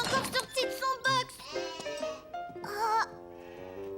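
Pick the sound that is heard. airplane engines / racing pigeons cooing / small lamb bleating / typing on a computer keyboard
small lamb bleating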